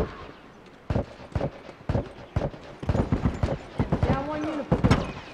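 Gunfire in a multiplayer shooter game, a shotgun among the weapons: a run of sharp, irregular shots, some close and loud, others farther off, with a voice talking over the fighting.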